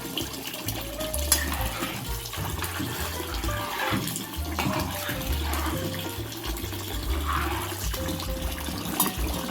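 Water sloshes and pours from a vessel as food is rinsed and drained, with continuous splashing and gurgling up close.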